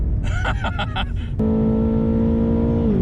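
A BMW M8 Competition engine pulls hard under throttle, a loud close in-car drone with a sudden jump to a steady high-revving tone that holds, then drops slightly at the end.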